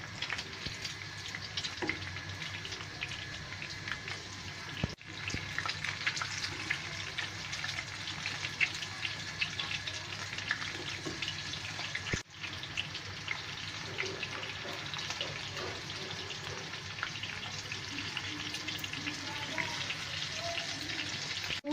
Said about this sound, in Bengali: ঢেকে রেখে এটা ভাজতে হবে, একদম লো হিটে ভাজতে হবে।